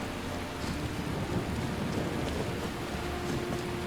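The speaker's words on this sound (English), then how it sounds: "Rain." Rain falling in the Skyrim game world, a steady, soft, continuous patter and hiss at moderate distance, with a faint background tone and no talking.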